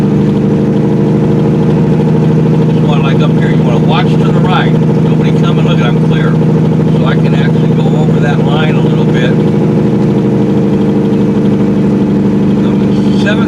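A loaded super dump truck descends a highway grade on its engine brake, a loud, steady low drone that fills the whole stretch, while someone talks over it.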